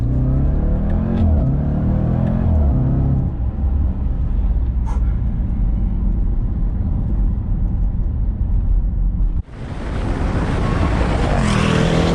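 A Jaguar F-Pace SVR engine roars loudly and builds in pitch as it accelerates hard, then surges with a sudden burst of harsh, brighter noise near the end.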